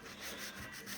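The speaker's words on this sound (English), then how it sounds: "So you've got to actually sand hard up inside there." Hand sanding of primer on a car body panel ahead of painting, with sandpaper scrubbing hard in a steady, close back-and-forth rasp for about a second and no talk.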